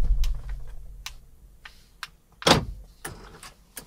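A 2006 Honda Pilot door shuts with one sharp, fairly close thud, preceded by faint scattered clicks and followed by a few quieter ticks of the lock mechanism in an otherwise quiet setting.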